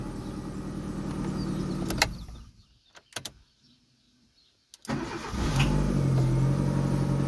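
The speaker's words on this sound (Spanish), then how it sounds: "Y ahora le vamos a dar marcha." A Renault Duster's engine runs loud and steady, then cuts out into near silence with only a couple of faint clicks, before it is cranked and fires back up into a strong, even idle.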